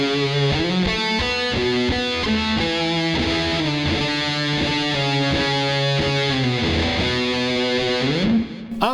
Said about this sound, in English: we come into this really heavy riff part, so I switch a big muff on.